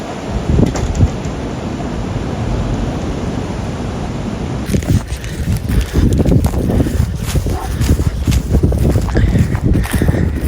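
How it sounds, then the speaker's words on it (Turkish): Strong wind buffets the microphone in heavy gusts, a rumbling roar that grows rougher and louder partway through, with no one speaking. "aşırı bir rüzgar var ya"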